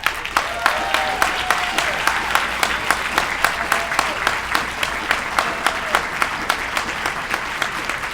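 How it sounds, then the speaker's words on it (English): An audience at a pro-Israel rally applauds a pastor being introduced. Steady, sustained clapping comes from a sizable crowd, with faint voices underneath and a regular rhythmic beat of louder claps running through it. "He deserves all of that applause and more."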